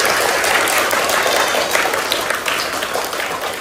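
Loud, steady applause from an audience at a social organisation's educational supplies distribution event, sustained and dense throughout.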